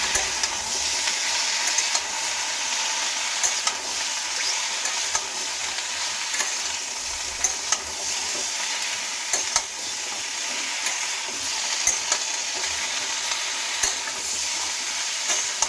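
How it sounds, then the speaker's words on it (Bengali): A small pinch of turmeric powder is stirred into oil frying in a pan before pumpkin greens go in, a loud, steady sizzle broken by regular spatula taps and scrapes against the metal. "দিয়ে নিয়ে নাড়াচাড়া করব।"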